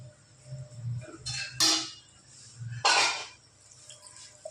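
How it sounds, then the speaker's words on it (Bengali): Water poured into a pan of cooking okra, heard as a few short splashing bursts with a brief clatter, moderately close and without talk. "জলটা দিয়ে নিলাম।"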